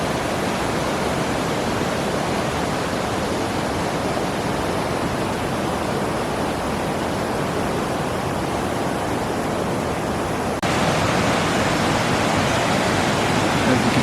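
Floodwater rushes through a Colorado mountain stream near Glen Haven and Estes Park, a dense, steady roar of churning water close by, unbroken for the whole stretch and slightly louder toward the end.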